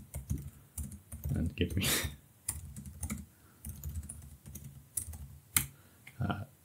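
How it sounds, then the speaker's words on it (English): Close, uneven typing on a computer keyboard into ChatGPT, with clusters of quick key clicks separated by short pauses while someone talks over them. "you can type anything here and get ChatGPT to"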